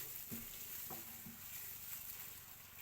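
Gram flour roasting in melted ghee over a low flame, with a spoon stirring it now and then, giving a soft, steady sizzle and a few faint scraping strokes close by.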